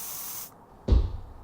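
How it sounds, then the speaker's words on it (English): Sleeping spray released in a steady hiss that stops abruptly, followed by a brief low thump and a softer trailing hiss, close and fairly loud with no voices. "get into the window and spray them with that sleeping spray I gave you"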